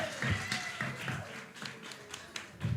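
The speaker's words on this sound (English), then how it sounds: "Big round of applause to Faye." Applause for a speaker at a kanthariTalks 2023 event: a light scatter of claps and taps over a few seconds, fairly close, with some voices mixed in.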